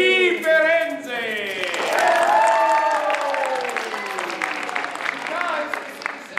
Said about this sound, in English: When I say that name, I want you to applaud.